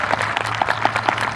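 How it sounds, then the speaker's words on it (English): An audience at a high school graduation ceremony applauds school staff with steady, sustained clapping from a crowd, a few sharper claps standing out. "Please give them a round of applause"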